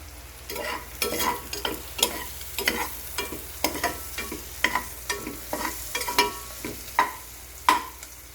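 Food sautéing and being stirred in a hot pan: a steady low sizzle broken by repeated sharp scrapes and clinks of a spatula against the pan, close and moderately quiet, with no voices.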